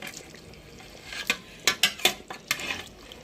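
A spoon stirs meat in a pot on a clay stove, giving a few sharp scraping strokes and clinks over a soft background simmer.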